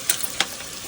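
Spices sizzle in a pot over a wood-fired stove while tempering for a Kolhapuri trotter soup, a bright, close hiss with two sharp crackling spikes.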